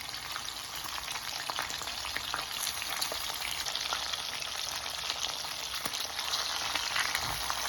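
Meat frying in a pan, alongside cabbage in a home kitchen, with a steady, close crackling sizzle throughout and no talking.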